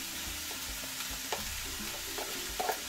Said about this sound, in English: I'm going to add my rice with the curry